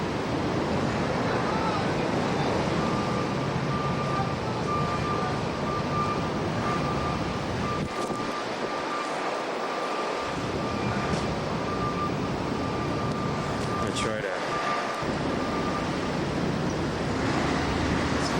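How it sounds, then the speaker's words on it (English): Strong wind blowing straight off the ocean during a December blizzard roars as a loud, constant broadband rush, with surf-like buffeting against the microphone and two brief lulls partway through. "It's very windy, very windy conditions."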